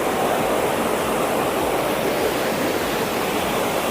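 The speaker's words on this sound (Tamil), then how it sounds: "இங்கே ஆக்சுவலி மேலே வந்து ஃபால்ஸ் உருவாகுது." A waterfall in Kerala pours with a constant, full roar of rushing water, close and loud, with no voices over it.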